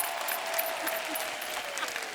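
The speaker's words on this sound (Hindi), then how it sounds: "जोरदार तालियां हो जाए बेड़ो" Studio audience applause on a Hindi comedy TV talk show, a steady dense wash of clapping lasting about two seconds at moderate level, with faint voices mixed in.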